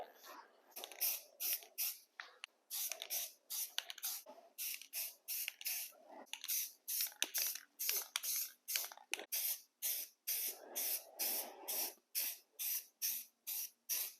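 Spray can laying a second coat of self-etching primer onto a billet aluminum lifter valley cover: a long series of short, sharp hissing bursts in a steady, close, repeated rhythm with brief gaps between.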